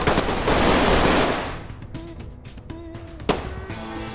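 Gunfire in the tactical shooter Ready or Not: a loud dense burst of rapid automatic fire for the first second and a half, then scattered single shots and clicks over quieter game ambience.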